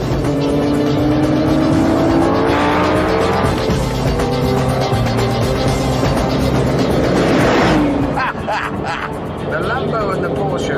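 A Lamborghini, a Porsche and an Aston Martin racing hard, loud engines wailing and rising through the gears with tire noise, staying close and continuous throughout.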